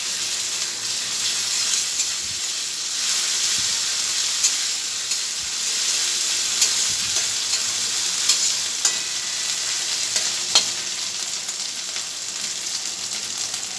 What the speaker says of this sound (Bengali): আমি আর একবার নেড়ে নেবো।